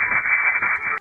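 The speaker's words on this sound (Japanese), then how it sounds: "急に雑音が大きくなって" A radio link crackling with band-limited static during a live broadcast relay, the noise holding loud and steady across the second before cutting off abruptly.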